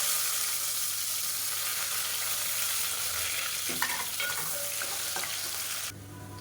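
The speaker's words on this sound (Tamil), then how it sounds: "கால் டேபிள் ஸ்பூன் அளவுக்கு சோம்பு சேர்த்துக்கோங்க சோம்பு நல்லா பொரியுது" Fennel seeds and sliced onions frying in oil for Madurai-style mushroom biryani: a steady, close sizzle with a few stirring clinks, cutting off abruptly just before the end.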